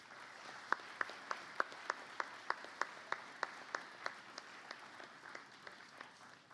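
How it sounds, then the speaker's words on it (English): A school audience at a secondary end-of-year concert claps for a student band. Soft, distant applause is led by one clear set of hands clapping in a steady rhythm that slowly fades. "So give them another big round of applause."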